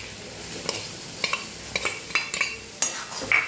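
Leftover cooked rice being stirred into fried tomato and oil in a pan, with a soft sizzle underneath and a series of sharp spoon scrapes and knocks against the pan at irregular intervals.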